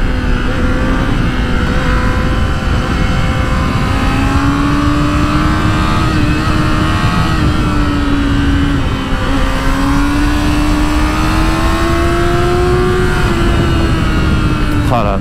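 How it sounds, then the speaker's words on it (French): A motorcycle engine runs loud and close, its pitch rising slowly as it revs and cruises, steady throughout with a voice faintly beneath. "Ah là là, cette moto, qu'est-ce que je l'aime."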